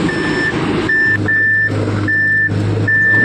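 A truck on a broken mountain road in North Sikkim, the way to Lachen, with a loud repeating reversing beeper sounding in regular pulses over a low, close engine rumble.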